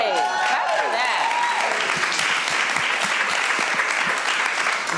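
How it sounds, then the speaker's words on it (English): Audience at a relationships town hall clapping to celebrate a ten-year marriage, a loud, continuous burst of applause with some voices and chatter mixed in. "Clap for that."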